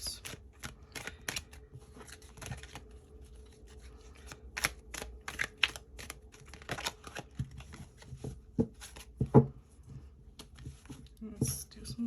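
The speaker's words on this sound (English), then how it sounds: "Let's do some shuffling." Tarot cards are shuffled by hand in quiet, irregular bursts of riffling and soft slaps, close and faint, with brief pauses between handfuls.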